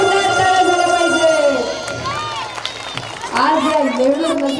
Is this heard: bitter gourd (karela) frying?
no